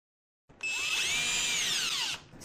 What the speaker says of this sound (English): I'm going to just drill a small hole